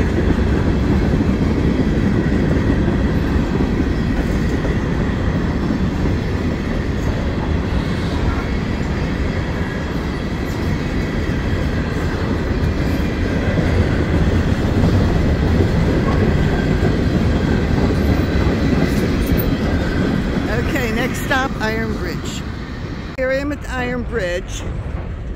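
A train rumbles past close by, steady heavy rolling noise with faint clatter of wheels, and a few squeals near the end; a voice talks faintly underneath.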